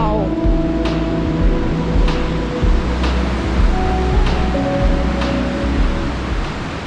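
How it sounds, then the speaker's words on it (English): A river in Himachal Pradesh's Parvati Valley rushes continuously with a broad, steady hiss, overlaid by sharp periodic clicks and faint low voices in the background. "And we are back to the water stream."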